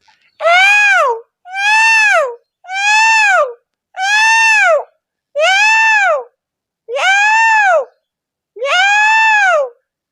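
A person's voice imitates a peacock, giving seven loud, wailing calls that rise and fall, evenly spaced with short pauses between them.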